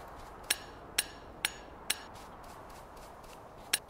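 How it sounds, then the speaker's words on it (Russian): A hammer knocking as walls are repaired in Factorio, five sharp metallic taps at an even rhythm followed by one more after a pause, crisp and close over a faint background hum. "Молотком стучит, когда ремонтирует."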